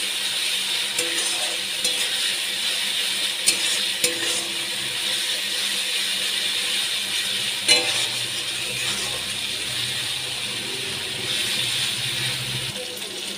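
Ginger-garlic-chilli paste with cumin powder sautés in a pan, giving a steady close sizzling hiss throughout with a few faint clinks and stirring scrapes.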